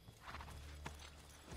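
Horse hooves clip-clopping with a short whinny in the video game Assassin's Creed III, close and clear, no talking.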